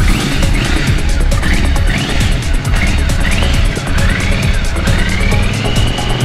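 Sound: motorcycle engine running

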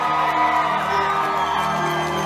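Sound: concert crowd cheering and whooping

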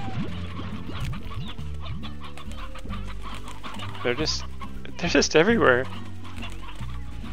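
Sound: chickens clucking in the video game Slime Rancher

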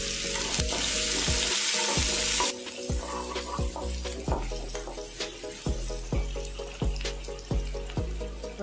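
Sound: onions sizzling as they are added to hot oil

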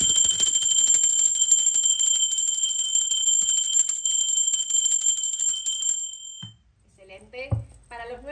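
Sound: bell rung during a tarot reading

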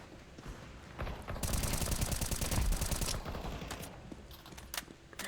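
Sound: gunfire in a video game

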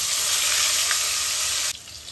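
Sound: pointed gourd (potol) frying in oil

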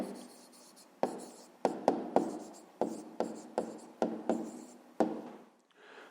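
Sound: pen writing down a math answer

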